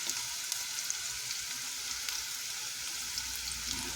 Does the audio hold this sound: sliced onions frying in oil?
yes